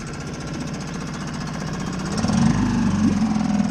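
Small 2015 Suzuki 2.5 outboard motor running alone, a steady close buzzing drone with rapid pulsing that grows louder and rougher partway through.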